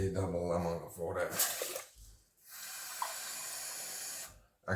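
Water gushes from a kitchen tap into a pot of rice, a loud steady hissing stream that starts after a voice speaks, briefly cuts out, then runs again until near the end.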